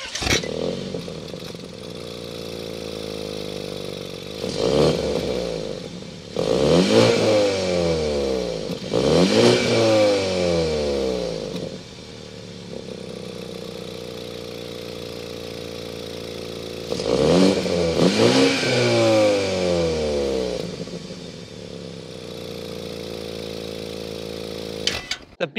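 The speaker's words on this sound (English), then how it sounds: "This is a BMW twin power turbo. Let's start it up and hear that exhaust note." A 2022 BMW 530i with its 2.0-liter TwinPower turbo four-cylinder starts and idles, then rises in several sharp revving bursts that sweep up and fall back, with a steady idle between blips and a final burst later on.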